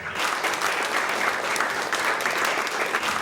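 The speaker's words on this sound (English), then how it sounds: "stand by for applause, applause, go applause" Studio audience applause on a cooking show set, a dense, loud and even burst of clapping that fills the whole short stretch.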